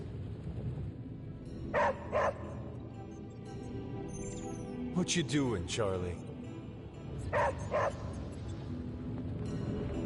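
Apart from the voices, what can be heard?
dog barking and yipping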